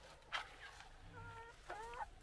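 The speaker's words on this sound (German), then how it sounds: "Da höre ich es gackern." Chickens clucking at a home in Thailand, a few soft, short clucks and a drawn-out tonal cackle, faint and fairly close against low background noise.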